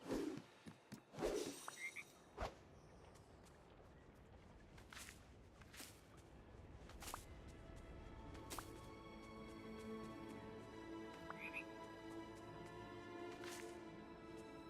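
Frogs croak twice in quick succession in the video game Dreamlight Valley, then fade into a quieter stretch of game ambience with soft chimes, clicks and a steady tonal bed.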